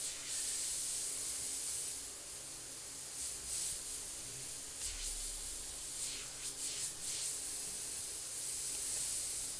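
An airbrush sprays paint onto a board track racer and flag artwork, a steady close hiss running throughout with brief stronger bursts of spray in the middle and later.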